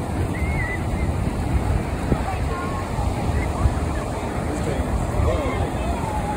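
Ocean waves washing steadily onto a beach shore, a continuous close wash with wind noise on the microphone, while people talk faintly over it.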